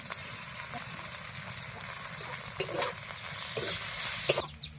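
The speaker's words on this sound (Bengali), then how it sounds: "আমার আদা রসুন সমস্ত কিছু ভালোভাবে ভাজা হয়ে গেছে" Ginger and garlic fry with onions and chillies in a pan: a low, continuous sizzle with a few sharper clinks and stirring scrapes near the end, with no talk.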